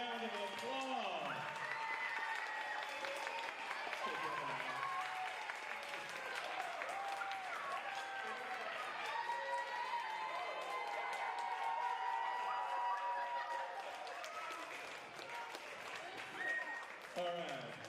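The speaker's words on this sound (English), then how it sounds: "Audience, can we please give our young storytellers one more big round of applause?" An elementary school audience gives big applause for young storytellers, sustained clapping and cheering from a crowd with excited children's voices and shouts running over it throughout.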